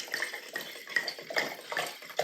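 Local red wine trickles and splashes into glasses in a wine cellar at Château Avensac in Avensac, France, a faint, gurgling pour in short uneven spurts.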